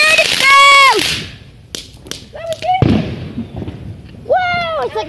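Bonfire night fireworks burst and crack outdoors, with sharp bangs and pops among whistling rising tones, while excited voices talk and cheer between the explosions.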